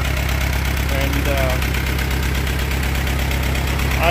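An Allis Chalmers B tractor engine runs steadily at idle, a continuous low mechanical drone with a faint knock, close and fairly loud with no pauses.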